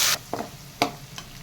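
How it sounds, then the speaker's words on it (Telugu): Ginger-garlic paste fries in a pan for a green chilli mutton fry, with a loud opening sizzle burst followed by a few short, sharp stirring scrapes and crackles against a quiet background. "ఇప్పుడు ఇలా సగం వేగిపోయింది కదండి అల్లం చిన్నులపాయ పేస్ట్"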